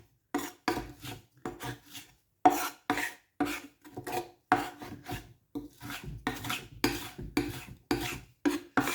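A kitchen knife repeatedly presses and scrapes garlic into a fine paste on a cutting board, producing a steady run of close, rasping strokes about once every half second with no talk.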